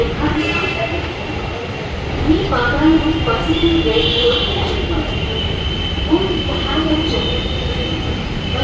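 A metro train rumbles steadily into a station platform with a constant low mechanical roar, faint squeals, and voices talking in the background.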